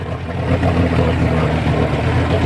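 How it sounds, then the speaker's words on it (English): Marine boat engine running steadily while being flushed with muriatic acid to clear overheating, a continuous loud low rumble with a faint hum, no talking. "And I'm running it, letting it cycle through the engine."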